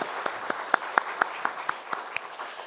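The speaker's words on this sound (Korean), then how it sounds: "하나님 앞에 영광의 박수를 드리겠습니다" A church congregation at a Sunday service claps in unison, about ten sharp rhythmic claps at an even pace, fading at the end.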